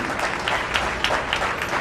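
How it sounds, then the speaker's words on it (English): Audience applause at a national conference, a crowd of students clapping in a steady, fairly close patter with a few sharper individual claps standing out. "Undoubtedly, he deserves a big round of applause"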